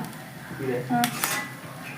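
Plates clink and clatter briefly in a home kitchen, a few sharp knocks close by, with faint talk in the background.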